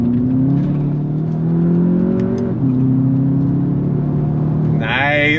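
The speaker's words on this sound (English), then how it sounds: "Let's go on throttle one more time." A 2024 VW Jetta GLI front-wheel-drive sport sedan accelerating hard on throttle, its engine droning and rising in pitch with a brief dip at a gear change, heard from inside the cabin before a short high whine at the end.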